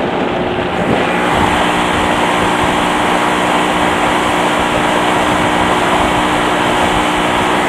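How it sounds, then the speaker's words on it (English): A boat's outboard motor fitted with a test propeller runs at full throttle, a loud, steady, droning engine roar with a constant hum and no break, no voices over it. "So the motor ventilates on hard takeoff and running full speed and making turns"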